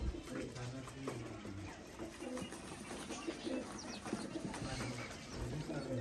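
Breeder pigeons cooing softly nearby in repeated low throaty bursts, with scattered rustles, faint background activity and a thin high whine throughout.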